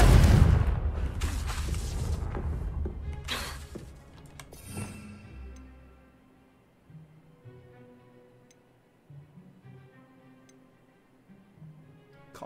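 A Confringo fire spell bursts in Hogwarts Legacy: a loud, booming blast up front that rumbles and crackles, then fades into a quieter game soundscape with faint ticking.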